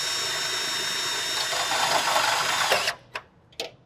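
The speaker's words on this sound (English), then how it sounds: "I'm going to drill a new hole, and you'll see how much longer it takes" A power drill whines steadily while boring a new hole for horizontal louvers, then stops abruptly, followed by two short bursts of the drill.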